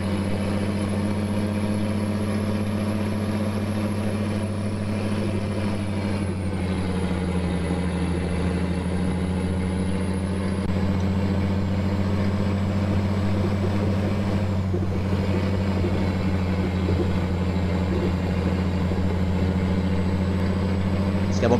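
Steady low engine drone of a loaded truck in Euro Truck Simulator 2, a mod truck labelled 24-280, idling and cruising continuously with a constant hum and faint high whine, no talk.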